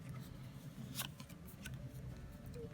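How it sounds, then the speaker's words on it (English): Cards from a modern classic Lenormand deck being shuffled, a soft, faint run of papery flicks and taps with one brighter snap near the middle, over low room hum. "I'm going to shuffle just to make sure."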